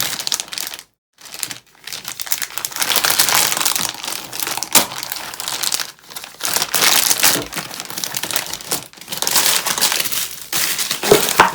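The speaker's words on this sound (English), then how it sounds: "Rip open the plastic for the wire." Plastic packaging around a MacBook Pro 85W MagSafe charger wire is ripped and crumpled in loud, close, continuous crinkling bursts with a few short pauses, no talking.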